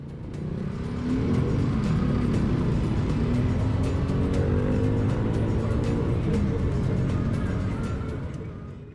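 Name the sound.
road traffic of cars passing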